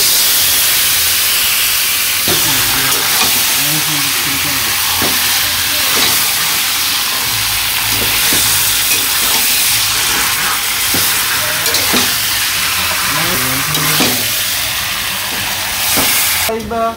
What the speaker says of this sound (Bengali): তো মাংসটা দিয়ে দেই, পেঁয়াজটা ভাজা ভাজা হয়ে গেছে।